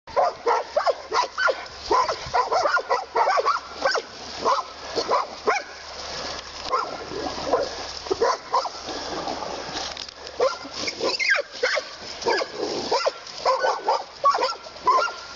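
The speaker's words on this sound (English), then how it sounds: "These dogs that came across a wounded coyote" Several dogs bark and yip excitedly by a river while confronting a wounded coyote, with repeated close, loud barks and some splashing, and no talk.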